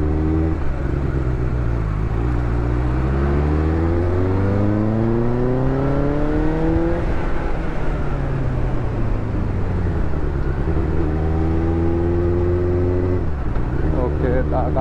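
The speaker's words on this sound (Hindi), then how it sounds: "एक्सगिल का एग्जॉस्ट है इसमें जो काफ़ी प्यारा साउंड कर रहा है" A Benelli 600GT motorcycle with an aftermarket exhaust accelerates hard through several gears, its engine note climbing in pitch, dropping at each shift and rising again, loud and close.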